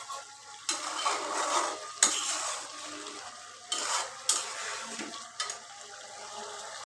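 Chicken pieces and bean seeds stir-fried in a pan, with a steady broadband sizzle and several sharp scraping strokes of a spatula against the metal, close and alone without talk.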